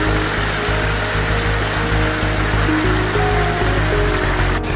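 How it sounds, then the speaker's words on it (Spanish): An autumn waterfall cascade roars in a steady, loud, unbroken rush of falling water, close by, with no voices. "Aquí tenemos de nuevo otras cascadas bastante interesantes."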